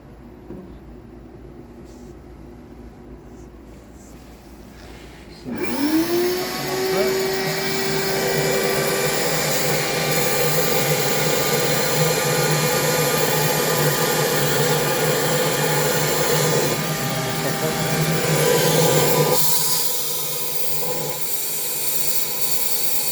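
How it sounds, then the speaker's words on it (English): A vacuum cleaner starts up with a rising whine and then roars steadily and loudly for about fifteen seconds while it sucks out the two ports at the back of an autoclave sterilizer chamber, then cuts back to a quieter hum. "we're going to suck out the two ports at the back of the chamber"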